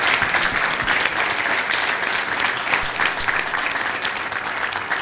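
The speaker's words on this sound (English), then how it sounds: "I think we should applaud once more." Sustained audience applause fills a hall after a religious lecture presentation, dense steady clapping from a sizeable crowd throughout, with no talk over it.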